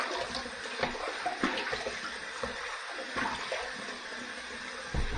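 Water splashes and drips as hands wet the face before a wet shave, a broad wash of splashing with several sharper splashes spread through the clip at close range.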